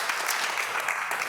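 Audience applause at an Oceanside city council meeting, a steady wash of clapping through the short moment after a public speaker finishes, with no voices on top.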